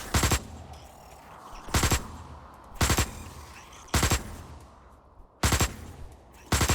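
Short automatic bursts of tungsten-round gunfire from an Osiris New Dawn weapon ring out at regular intervals, six sharp loud volleys separated by quieter background ambience.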